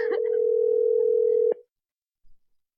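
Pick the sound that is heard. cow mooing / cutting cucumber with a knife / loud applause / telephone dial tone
telephone dial tone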